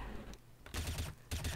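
Gunfire in Counter-Strike: Source comes in two short bursts of rapid shots after a quieter stretch, fairly loud against faint game background noise.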